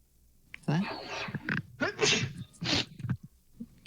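A single sharp sneeze from a person on a voice call, heard amid ongoing talk from several people.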